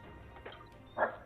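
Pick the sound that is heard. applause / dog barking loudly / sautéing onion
dog barking loudly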